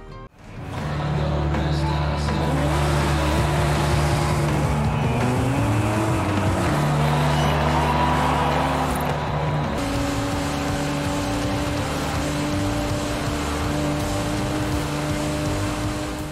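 Cars race in the video game Forza Horizon 5 with a continuous loud engine roar. The pitch shifts and changes gear partway through, with no talk.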